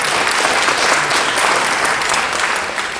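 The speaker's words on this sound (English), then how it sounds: "let's have one more round of applause for our speakers today." Audience at a Veteran's Day event in Danville, California applauds the speakers, a dense, steady wash of clapping from a crowd that holds loud throughout and eases slightly at the end.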